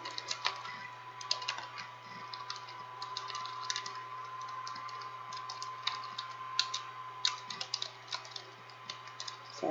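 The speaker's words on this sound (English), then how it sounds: "I can't type and talk." Computer keyboard typing runs steadily throughout as irregular bursts of crisp keystroke clicks over a constant low electrical hum, close and moderately loud with no talking.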